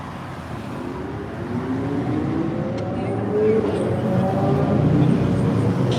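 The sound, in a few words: motorcycles passing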